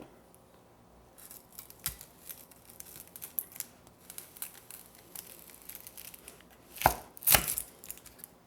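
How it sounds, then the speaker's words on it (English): A knife chops an onion on a board. Light, scattered cuts speed up into a run of quick chops, with a couple of louder thuds near the end and no talking. "our last thing to chop is onion"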